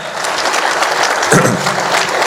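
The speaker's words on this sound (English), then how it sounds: "So please give yourself a round of applause" Steady applause from an audience at a gala, loud and continuous for a couple of seconds with no voices over it.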